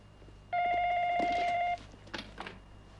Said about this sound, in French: C'est fait pour ça, le téléphone.